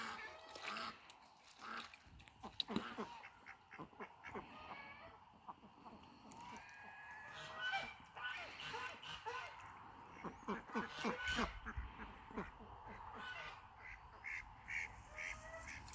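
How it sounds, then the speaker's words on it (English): Faint ducks quack repeatedly at a distance on a muddy farm amid outdoor background noise, with scattered soft sounds throughout. "Nice ducks."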